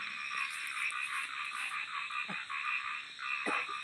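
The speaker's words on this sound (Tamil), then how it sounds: "தவளையெல்லாம் வந்துருச்சுப்பா உள்ள." A dense chorus of frogs croaks continuously during heavy rain flooding, a steady buzzing trill with occasional nearer thumps.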